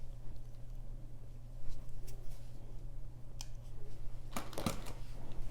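A strand of pink beads is cut open with a few quiet snips and light clicks against a low background hum, brief and close, with a sharper cluster of cutting sounds near the end.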